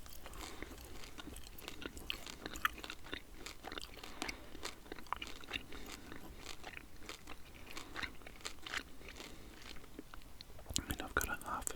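Gum being chewed close to the mouth with soft, steady wet clicks and crunchy bites throughout, mixed with quiet whispering.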